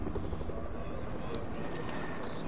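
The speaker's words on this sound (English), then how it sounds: "helicopter across from us" Helicopter rotor thrum in the video game Fortnite, a steady dense chop filling the clip at moderate loudness with faint game effects over it.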